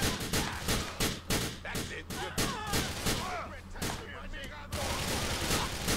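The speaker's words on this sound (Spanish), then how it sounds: "¿por qué le estoy disparando a ese y no muere?" Rapid bursts of gunfire from shooting at a character in Grand Theft Auto IV ring out loudly and continuously, with repeated volleys layered over game noise and someone talking.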